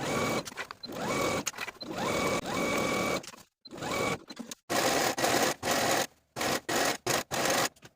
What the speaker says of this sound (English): go to your sewing machine and sew your waistband to the top of your shorts with a 5/8 inch seam allowance all the way around